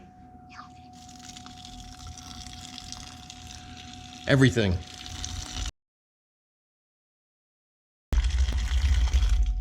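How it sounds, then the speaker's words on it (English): Water runs and splashes as it is poured into a pot of bones and celery for ramen broth, with a brief louder gush midway, a short silence, then more pouring; a voice speaks briefly. "then we want to add some water till we cover"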